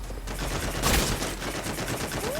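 Gunfire in the battle royale game Free Fire: a dense, continuous burst of rapid automatic shots, loud and close, with a sharper crack near the middle.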